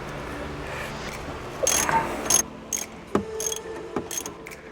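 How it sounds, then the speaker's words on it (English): Sway bar end link being pulled off a 2020 Toyota Supra during a coilover install, heard as a few short metallic clicks and clunks of tools and parts, close by and fairly quiet over a low background hum. "I'm gonna go ahead and pull the end link off."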